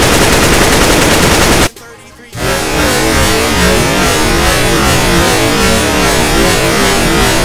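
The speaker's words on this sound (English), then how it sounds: "you shoot at this wall with the AK" AK-47 automatic fire aimed at a wall in CS:GO, a loud rapid burst of gunfire that stops abruptly for about half a second, then resumes as another sustained stream of shots.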